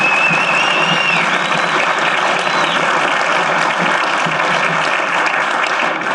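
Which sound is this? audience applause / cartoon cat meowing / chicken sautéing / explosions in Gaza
audience applause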